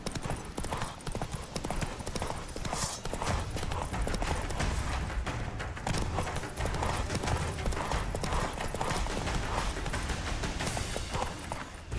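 Horse hooves clip-clopping at a steady gallop across open ground in The Witcher 3, rhythmic and continuous with ambient game sound beneath, close and fairly loud throughout.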